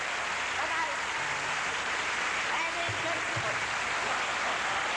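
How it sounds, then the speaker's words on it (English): A studio audience at a 1986 telethon claps and cheers in a steady, even wash of applause that carries on without pause throughout. "How about a cheer for a giant man?"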